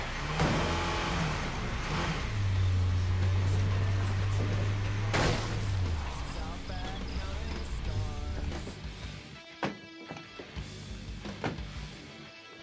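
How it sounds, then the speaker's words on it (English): A truck engine in a video game rumbles and revs as it drives out of a valley, with sharp knocks and bangs over the engine noise. "Still need to get this truck the hell out of the valley."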